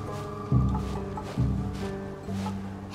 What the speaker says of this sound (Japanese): 鳥の声。